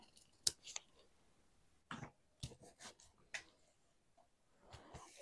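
Scissors cutting paper along a dotted line for an envelope pocket with flaps, a few quiet, scattered snips and rustles spread over several seconds, soft and close.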